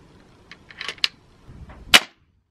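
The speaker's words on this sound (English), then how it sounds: "As far as cocking it, it's really not that hard." Hatsan 150 Torpedo .22 break barrel air rifle being cocked: a few soft clicks and metallic snaps, then one sharp loud clack as the barrel locks, close and alone.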